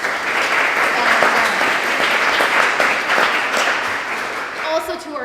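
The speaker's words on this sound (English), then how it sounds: "let's just give them a round of applause." A crowd at a startup demo day event breaks into loud, sustained applause, steady clapping filling the room for several seconds before tapering off as a voice begins.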